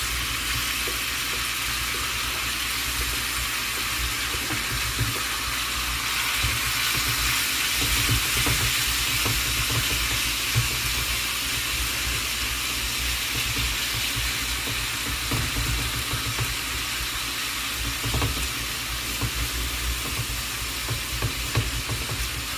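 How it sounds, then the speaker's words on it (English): Chicken pieces frying in sesame oil in a hot pan for cashew chicken, a steady close hiss and crackle of sizzling that runs continuously with faint stirring clatter underneath. "It's gonna sizzle."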